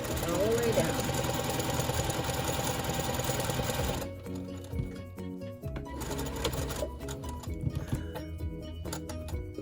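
A sewing machine stitches a Daisy quilt, running loud and steady for about four seconds, then continuing in quieter bursts with a short pause.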